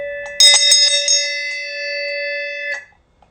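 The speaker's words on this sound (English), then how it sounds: "And you see it will continue to vibrate after I ring that bell." A handheld bell is struck a few times in quick succession, then rings out alone with a clear sustained metallic tone that decays slowly for about two seconds before cutting off sharply when damped.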